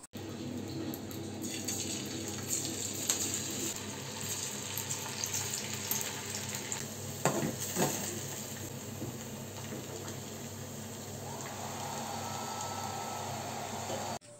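Food frying in a pan with a soft, steady sizzle from start to finish, a brief clatter partway through, fairly quiet and close.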